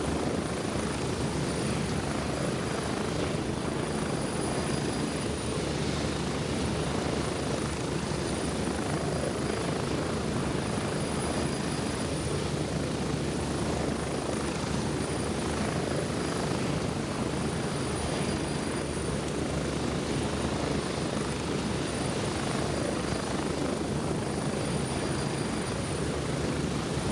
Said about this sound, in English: Get away from the chopper so it doesn't kill me when it takes off.